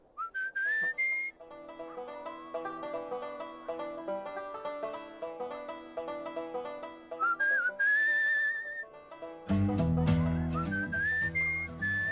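Melodic whistling from the video game Where the Water Tastes Like Wine, a clear tune of gliding, sustained notes over soft instrumental backing that grows fuller near the end, with no talking.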